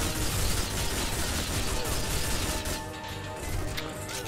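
Grenade blasts and gunfire from the 007 Nightfire video game, a dense continuous barrage of explosions and shots filling the whole stretch, thinning slightly near the end.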